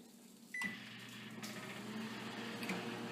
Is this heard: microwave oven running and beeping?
yes